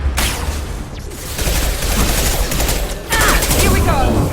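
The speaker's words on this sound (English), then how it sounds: "Taking heavy fire!" Heavy, sustained gunfire in the video game Mass Effect 2, a dense continuous barrage of shots that swells louder partway through, with voices calling out over the combat.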